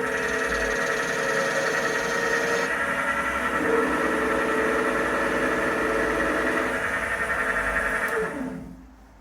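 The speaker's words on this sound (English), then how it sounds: "Hopefully, that's a sealed can of beer." A KegLand canning machine seals a can of homebrewed porter, running as a steady close mechanical whir and hum with a shift in tone partway through before spinning down and stopping at the end.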